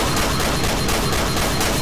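Rapid, dense bursts of shotgun fire from M9K weapons in Garry's Mod, loud and continuous blasts stacking on each other with no pauses.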